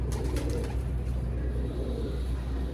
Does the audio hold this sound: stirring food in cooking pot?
no